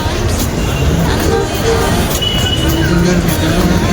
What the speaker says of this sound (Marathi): हे बघा नाशिकचं रेल्वे स्टेशन